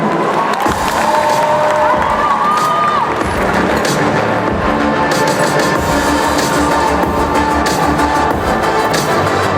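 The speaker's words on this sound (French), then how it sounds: "On l'applaudit bien fort, s'il vous plaît." An audience at a cosplay contest cheering, shouting and applauding loudly and continuously, a dense crowd roar with some children's voices.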